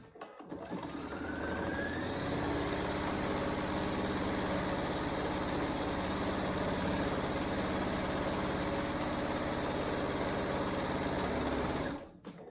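A sewing machine stitches ribbon onto fabric mittens in one long steady run, its fast even whir close and continuous before stopping abruptly near the end.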